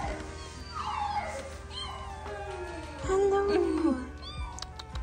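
Kittens meow on checkup day at a pet adoption setting, with several clear rising and falling mews, the loudest near the end, close by. A person speaks softly a word or two in between.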